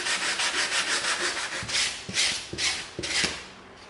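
EVA foam is sanded smooth to remove bandsaw marks, with close, loud rasping strokes that start as continuous rubbing and turn into a rhythmic series of distinct back-and-forth passes.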